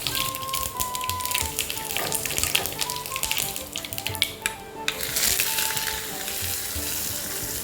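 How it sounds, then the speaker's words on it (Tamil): Spices tempering in hot oil for coconut chutney, a loud close crackling sizzle with dense popping that swells and briefly drops before settling into a steady fry, with some faint background tones. "தாளிச்சுக்கலாம்."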